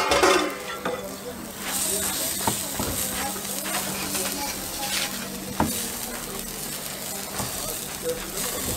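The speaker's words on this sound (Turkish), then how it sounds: "Bu şekilde abi ekmeğimizi ısıtıyoruz. Kızartıyoruz isteyene." Bread sizzling and frying in sucuk fat on a street-food griddle, a steady close hiss with occasional scraping taps, under conversation.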